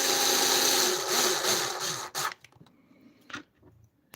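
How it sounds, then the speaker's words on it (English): A power screwdriver whirs steadily as it drives screws back into the lid of an ant nest, running loud and continuous for about two seconds, then cutting off into a few short bursts and quiet handling clicks. "I am going to put the screws back."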